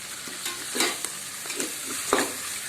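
Ginger-garlic paste frying in a pan with greens, a steady broadband sizzle broken by several scraping stirs of a spoon, close and fairly loud with no talking.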